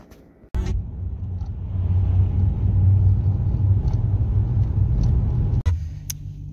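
A car rolls along a road with a steady, low engine and tyre rumble that swells and holds for several seconds, then cuts off with a thump.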